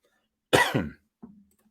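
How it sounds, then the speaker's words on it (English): A single harsh cough, a lingering cough after COVID, bursts out close to the mic, followed a moment later by a softer, short throat-clearing sound. "I apologize for my cough."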